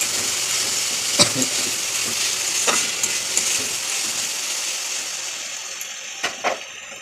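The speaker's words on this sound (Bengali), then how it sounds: "কাঁচা লঙ্কা একটু লাগিয়ে দিলাম, একটু ভাজা ভাজা করে নিই" Snake gourd with green chili fries in a pan, a continuous close sizzle broken by several sharp scrapes and taps of a spatula as the pieces are stirred.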